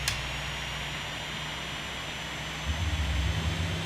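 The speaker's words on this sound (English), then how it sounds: "let's listen to the fuel coming on from the outside" Steady, even hiss over a low rumbling hum as fuel flows into a Boeing 737 from an outside truck in X-Plane 12, a constant wash of noise with a slightly heavier low rumble near the end and no talking.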